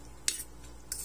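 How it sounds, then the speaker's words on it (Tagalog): A utensil stirs a tomato, spring onion and fried eggplant dish in a pan, giving two quick, light metallic clinks about half a second apart over a quiet background. "Haluin lang natin."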